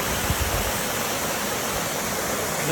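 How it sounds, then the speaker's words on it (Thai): The lower tier of the Narutaki waterfall pours with a dense, loud, unbroken roar of rushing water close by, with a couple of brief low thumps near the start. "น้ำใสดีมากเลยครับน้ำตก"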